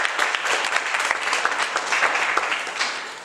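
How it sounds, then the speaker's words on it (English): An audience applauds at a peace education event for students, giving steady, moderately loud clapping with individual claps standing out and no speech. "Please, a round of applause."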